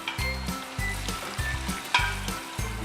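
Onions and leeks sweating in a pan with a sprig of thyme and crushed garlic, a steady close sizzle broken by repeated low thumps of stirring at a regular rhythm, with no talk.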